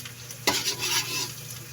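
Garlic hits a hot frying pan for butter pork with a sudden burst of loud, crackling sizzle that continues steadily close up, with stirring and no talk.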